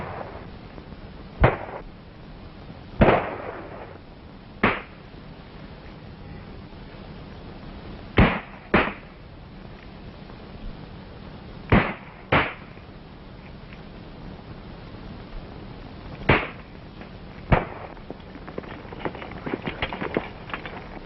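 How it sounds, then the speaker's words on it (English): Gunshots in a 1932 film battle, sharp isolated cracks fired at irregular intervals with a few seconds between them, some closer and louder and others fainter, over a thin hissing background. "Shots came from over there, sir."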